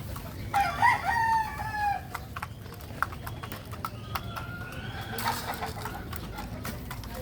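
Chickens cluck and squawk outdoors at feeding time in the rainy season, with a brief crowing call early on and steady background noise throughout.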